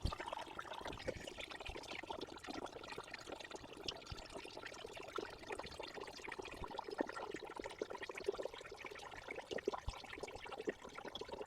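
Water drains steadily out of an old Mopar car in a continuous trickling, splashing pour that keeps going without pause, close and fairly quiet.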